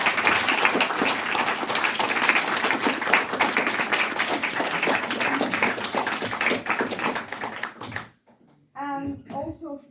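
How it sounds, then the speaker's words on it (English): An audience at an IFL Awards 2024 screening applauds the filmmakers in a dense, sustained round of clapping that fills the room for about eight seconds, then stops abruptly and a voice begins speaking. "a big round of applause for all the"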